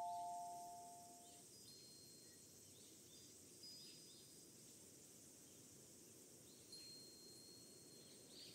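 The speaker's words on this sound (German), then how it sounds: "dann drücken wir mal die Klingel" A faint electronic doorbell chime sounds once at the start in the video game Goodbye Eternity, followed by quiet hissing ambience with a few soft high tones.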